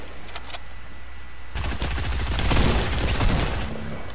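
Rapid gunfire breaks out in a video game after a quiet opening, a loud run of closely spaced shots that swells in the middle; a bolt-action sniper rifle is among the weapons.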